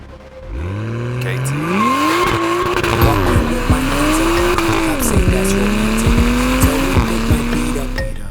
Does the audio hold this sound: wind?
no